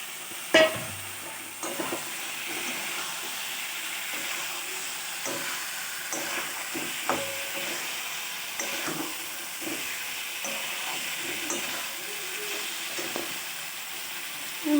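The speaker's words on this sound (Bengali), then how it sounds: "এবার আমি এর মধ্যে এগ আর পনিরটা দিয়ে দিচ্ছি।" Egg and paneer go into masala already frying in oil in a pan, giving a steady sizzle with frequent scrapes and clinks of stirring, close and moderately quiet, with no talking.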